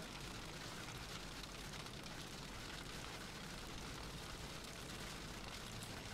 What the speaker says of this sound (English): You can hear a little bit of rain in the background.